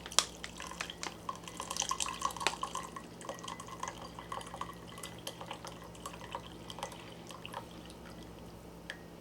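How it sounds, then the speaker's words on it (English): Leftover cooking water from slow cooker vegetables drains out, giving a steady run of quiet drips and trickles into a container with small splashes throughout, faint and close with no talking. "I'm just going to drain the water, what's left of it, into here."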